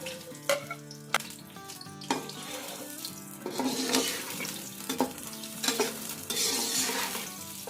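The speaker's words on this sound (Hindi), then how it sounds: "प्याज को फ्राई करेंगे" Sliced onion frying in melted ghee with a bright, close sizzle, punctuated by clinks and stirring knocks as it is turned in the pan, no voices.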